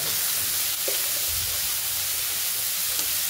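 Green peas fry with potatoes in a pan, a steady soft sizzle with faint stirring scrapes, close and fairly quiet with no talk over it.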